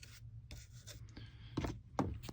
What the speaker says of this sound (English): I brush it on with a toothbrush.